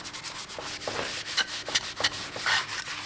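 A Dana 80 axle housing being rubbed clean by hand: close, steady abrasive scrubbing strokes with a rhythmic back-and-forth rasp, fairly loud, no talking.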